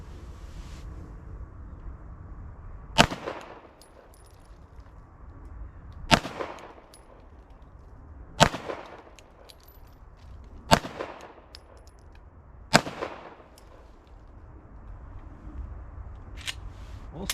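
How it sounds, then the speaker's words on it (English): A Glock 19 pistol fires five single shots at a target ten yards away, each a sharp loud crack with a short decay, spaced about two to three seconds apart over quiet background. "These are the first shots out of it. Hope it goes bang."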